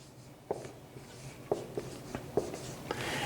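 Pen strokes on paper while chemical element symbols are written out, a series of short scratchy taps and scrapes at irregular intervals, close and fairly faint, with no talking.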